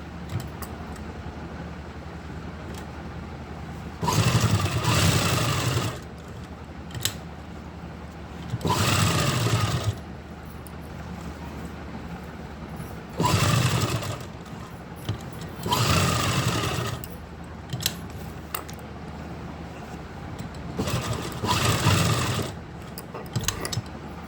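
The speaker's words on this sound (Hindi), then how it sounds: "और अब हम एक सिलाई यहाँ पर लगाएंगे।" A sewing machine stitches a kurti neck in repeated bursts of whirring, each lasting a second or two and separated by quiet pauses, close and clear.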